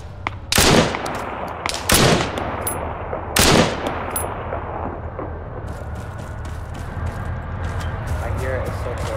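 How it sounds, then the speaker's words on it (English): Gunfire in the video game Arma 3 (Altis Life), with three loud, sharp shots in the first few seconds, followed by quieter bursts of fire and rumble further away while players talk. "Ooh, getting shot."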